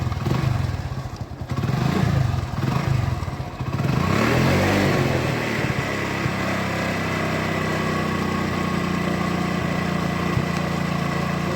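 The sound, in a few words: vehicle engine started on a drunk-driving prevention prototype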